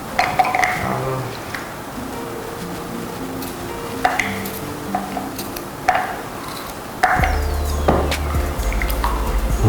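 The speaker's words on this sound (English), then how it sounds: "I need to rinse this first" Food is rinsed in a sink: water splashes and trickles with intermittent drips and clinks of dishes, then a steady stream of running water starts near the end.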